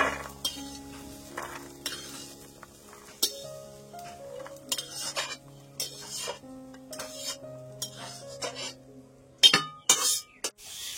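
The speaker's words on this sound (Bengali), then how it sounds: "গাজর, বিনস, ক্যাপসিকাম, তারপরে মটরশুঁটি সবকিছু এখন সাদা তেল দিয়ে ভেজে নিচ্ছি" Carrots, beans, capsicum and peas stir-fried in white oil for an anniversary meal, with a utensil scraping and clinking against the pan in irregular nearby strokes and occasional louder metallic knocks.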